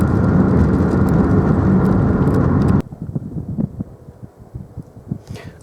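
A 2000 Ford Puma 1.7 Zetec-S drives on the road with a loud, steady engine and tyre roar that cuts off abruptly halfway, leaving a quieter, uneven rumble as the car slows.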